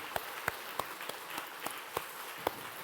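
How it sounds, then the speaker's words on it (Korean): During a Korean church Sunday service, the congregation claps in an even rhythm of about three sharp beats per second, fairly faint and distant over a low room hiss. "더 크게 하나님께 영광의 박수"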